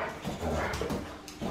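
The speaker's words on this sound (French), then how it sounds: "On entend un chien qui mouche." A dog sneezes and snorts in short nasal bursts, close and moderately loud, with a few whimper-like snuffles between them.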